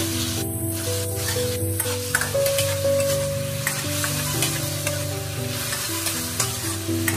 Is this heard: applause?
no